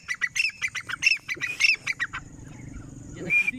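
Grey francolin (teetar) calls in a rapid run of sharp, high squawking notes, close and loud, followed by a pause and one more single call, with a soft voice murmuring underneath.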